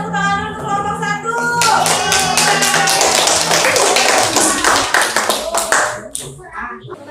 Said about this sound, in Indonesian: Kasih tepuk tangan dulu untuk kelompok 1.